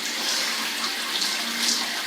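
Water runs steadily from a tap or shower while hair is being wetted, a smooth, even hiss of flowing water up close with no talking.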